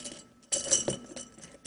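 A clear glass jar for a soap snow globe is handled and closed, giving a few bright glassy clinks and scrapes close by, with a busier burst of clinking in the middle and no talking.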